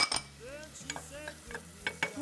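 Onions for a fish kefta sauce are stirred in a pan with a soft sizzle, a spoon scraping and knocking in short repeated strokes, quiet and close with no speech.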